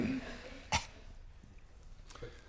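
A single sharp cough bursts out near the start amid quiet room tone on a busy video shoot set, followed by faint background shuffling and a softer throat noise later.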